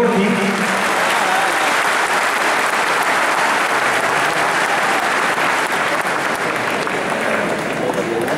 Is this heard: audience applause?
yes